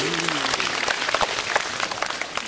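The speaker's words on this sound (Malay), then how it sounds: "Boleh bagi tepukan untuk ukti kita yang berani." A convention audience at UTM gives dense, sustained applause that fills the hall with continuous clapping, with a brief voice audible near the start.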